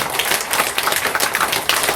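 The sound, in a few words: audience applause for the speaker's wife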